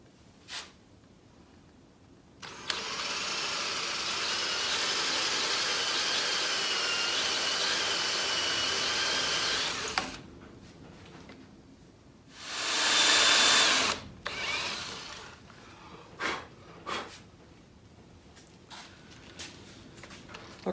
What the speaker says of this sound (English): I'm only going to go with the Forstner bit, not the full depth of the head of the Forstner bit